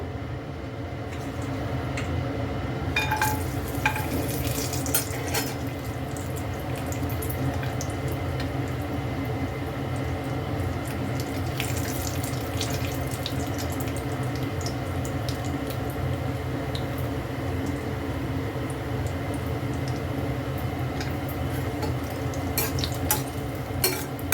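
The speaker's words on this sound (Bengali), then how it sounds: "তেলটা গরম হয়ে গেছে আমি একটু কাজু বাদামগুলোকে অল্প ভেজে নেবো" Cashew nuts frying lightly in hot oil for a Bengali chhanar kofta curry, a long even sizzle close by, with occasional faint clinks and scrapes of a utensil against the pan and no talking.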